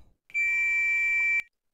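A multimeter on continuity mode gives a single steady electronic beep lasting about a second, clear and close, while diodes in the power supply of a Dell D1918H monitor are tested. Nobody speaks.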